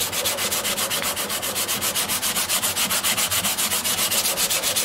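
Fingertips hand-sand the body of a custom 12-string dreadnought acoustic guitar, a close, steady rhythmic scratching with even back-and-forth strokes and no talking.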